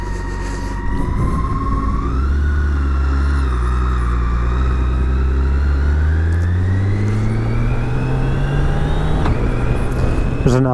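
A 2017 BMW K1600GT motorcycle engine pulls hard with rising pitch through the gears, a smooth upshift dropping the tone before it climbs again, loud and close with wind rush.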